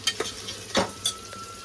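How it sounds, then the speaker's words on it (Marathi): Whole garam masala spices (cinnamon, black cardamom, star anise, green cardamom, peppercorns, cloves, cumin and stone flower) stirred as they fry in a pan: a few brief scraping strokes over a soft sizzle, close up, with no talking. "आता हलवून घेऊ आपण."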